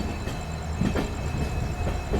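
The Amrit Bharat Express rolls along the rails with a loud, dense rumble and rattle of wheels and carriages, heard close from on board, continuous and unbroken with no talk.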